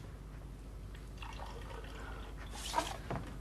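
Water trickles faintly into a glass, with soft drips and a brief louder splash near the end in a quiet room.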